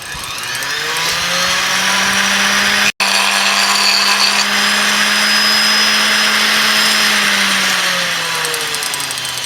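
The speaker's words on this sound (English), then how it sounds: "And now it's time to just grind off the nubs." A power tool grinds the nubs off handmade wooden nunchucks, a steady, loud, droning whir that runs nearly unbroken with one sharp cut-out early on.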